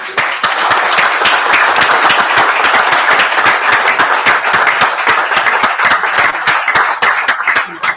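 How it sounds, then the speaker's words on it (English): Audience members at a town board meeting applaud with dense, steady clapping that runs the whole time at close, loud range, with no talk over it. "Want to give a round of applause?"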